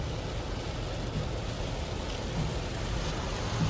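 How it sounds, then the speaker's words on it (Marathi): Dense, steady rain pouring down, a continuous wash of noise with no breaks and no voices. "फुल जोरात पाऊस चालू आहे"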